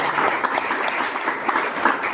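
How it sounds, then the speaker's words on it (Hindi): An audience claps steadily in a dense, continuous burst of applause welcoming newcomers on their first day, loud and close throughout with no pause. "एकदम ताली बनती है आपके स्वागत में।"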